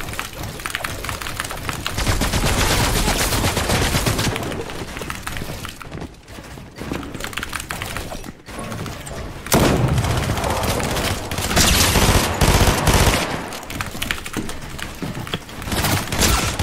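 Rapid bursts of gunfire and automatic fire rattle almost continuously in a Fortnite match, loud and dense, with brief gaps between volleys.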